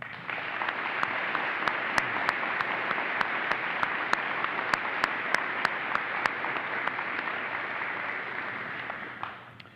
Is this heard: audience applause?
yes